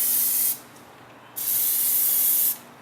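An aerosol spray paint can sprays in two bursts, a short hiss then a longer one, close and loud, with a quiet pause between them, in a garage.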